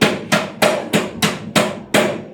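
A hammer is swung with full force during a stage illusion act, landing seven loud, sharp smashing blows in quick, fairly even succession, each ringing briefly before the next, with no talking.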